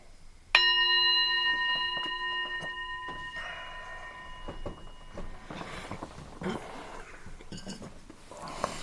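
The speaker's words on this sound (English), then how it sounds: "Let's ring the bell on the way out." A single bell struck once rings out clearly, its bright metallic tone decaying slowly over several seconds before faint shuffling and movement noises take over.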